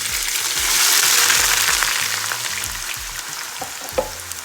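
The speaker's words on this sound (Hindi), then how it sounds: "तो मैं पहले प्याज ब्राउन करूँगी" Chopped onions fry and brown in hot oil for kofta, a loud, steady sizzle with a few scraping stirs and clinks near the end.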